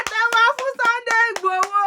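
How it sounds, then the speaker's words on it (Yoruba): A crowd claps for Sunday Igboho in quick, even rhythmic beats, about four per second, loud and near, with voices sounding along underneath. "Ẹ pàtẹ́wọ́ fún Sunday Igboho."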